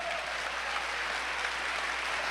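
A church congregation gives loud, steady applause to the Lord during a sermon, a continuous wash of clapping with no speech.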